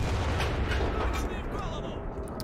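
A heavy 122mm cannon on an IS-2 tank fires in a World War II shooter set in Berlin, a deep booming blast that rolls on with a dense low rumble over a couple of seconds, loud and close.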